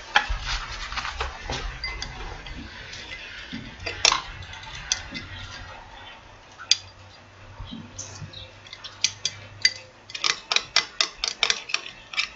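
Soap base being stirred in a container for a 3D ice-cream-in-a-cup soap, heard as a quick run of light clicks and taps, sparse at first and growing denser and sharper toward the end, with no one talking.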